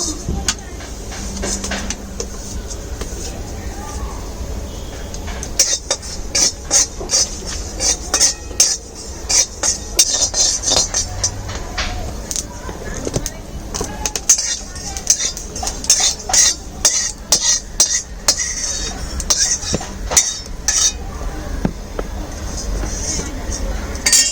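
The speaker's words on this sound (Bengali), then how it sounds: "আচ্ছা, মশলাটা যে জোয়ানটা একটু ভেজে নেব" Ajwain dry-roasting in a pan on a home stove, stirred steadily: a long run of close metallic scrapes and clinks from the utensil against the pan, with a voice speaking now and then over the stirring.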